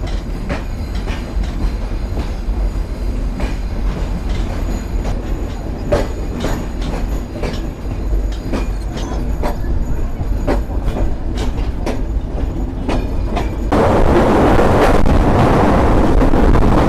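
Kapotaksha Express passenger train running after leaving Bheramara railway station in Bangladesh, heard from on board with a continuous loud rumble, rhythmic clacks from the wheels over rail joints, and wind noise growing louder toward the end.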